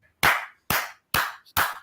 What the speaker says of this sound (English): Mona, help me clap for them.